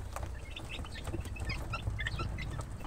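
Young 23-day-old chicks in a backyard poultry pen give soft, scattered chirps and clucks over a steady low background hum, with no talking.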